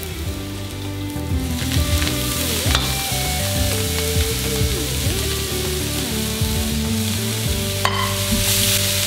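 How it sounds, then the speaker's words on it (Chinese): Chopped celery stir-fried with minced garlic and salt for Hakka lei cha, a loud, continuous sizzle close by, with clanking and scraping from a spatula against the pan as the greens are tossed. "现在接下来我们炒其他的菜哟，只是放蒜米、放盐就可以了。"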